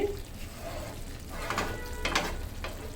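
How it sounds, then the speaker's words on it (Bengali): Rice being stirred in a simmering pot for a wedding-style vegetable dish, a few brief scraping bursts over a steady bubbling, low background hiss. "চালটা একটু নেড়ে দিয়ে এভাবে নেড়ে দিয়ে"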